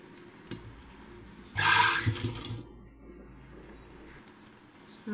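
A sewing machine stitching a round-neck blouse seam, starting with a short burst of whirring and needle clatter that runs about a second before stopping, close and fairly quiet against room noise.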